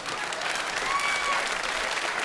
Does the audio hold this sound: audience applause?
yes